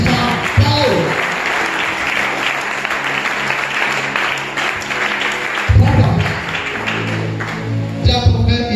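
A church congregation applauds together, sustained loud clapping filling the room, with a voice talking over it in places.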